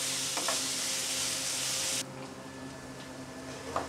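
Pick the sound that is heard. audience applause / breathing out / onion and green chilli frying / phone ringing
onion and green chilli frying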